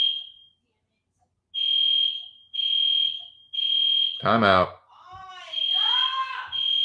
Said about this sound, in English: If this is the kids pulling the fire alarm again